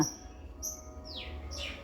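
A sparrow chirps outdoors beside a guava tree, giving a few short, thin calls at moderate distance against a quiet background.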